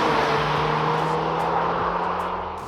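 Audi SQ2 performance SUV under hard acceleration, a steady loud engine drone with tyre and road roar and rising tones, continuous and close throughout.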